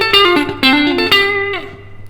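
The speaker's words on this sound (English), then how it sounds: "And if you play it fast," Clean electric guitar plays a phrase fast with hybrid picking, three quick plucked note groups with sliding pitches ringing out clearly and alone.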